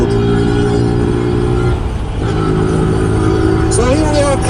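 A Zontes G1 125 scrambler motorcycle cruises in sixth gear at about 85 km/h and 7,000 RPM, giving a steady, loud engine drone with wind rush.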